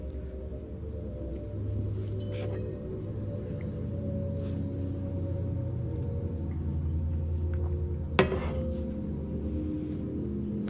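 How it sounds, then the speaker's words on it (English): Night forest ambience with a steady, continuous chorus of crickets chirping throughout, layered insect trills and a low hum underneath, one brief sharp click partway through, no talking. "Me voy a callar tantito para que escuchen el ruido del bosque."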